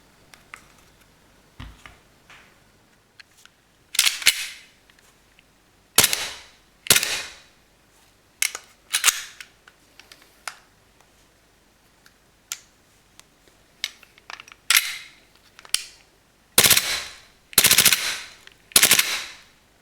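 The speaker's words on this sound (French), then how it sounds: "quand vous le faites basculer vers le centre, là vous passez en mode rafale" A Stark Arms S17 airsoft pistol fires in burst mode, producing sharp snapping shots in short rapid clusters separated by pauses and a few lighter clicks, loud and close with no talk.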